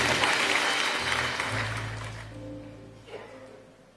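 Applause from a church congregation at a Sunday service, loud clapping at first that thins and fades away, leaving a low hum and a faint murmur toward the end.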